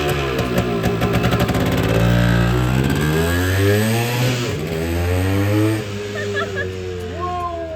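A Yamaha RT 180 motorcycle engine revs loudly up and down nearby, its pitch rising and falling through several throttle blips before settling, with people talking over it.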